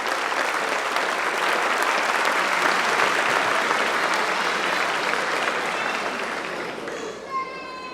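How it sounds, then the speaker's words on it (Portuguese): Audience applause at a formal solemn session honoring award recipients, dense sustained clapping with crowd noise that gradually thins out near the end. "Uma salva de palmas a todos os agraciados."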